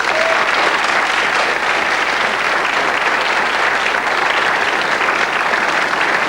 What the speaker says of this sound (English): Another round of applause, please, for Ian.